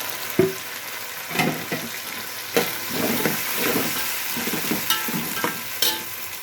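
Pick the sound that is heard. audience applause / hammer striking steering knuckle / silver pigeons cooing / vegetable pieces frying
vegetable pieces frying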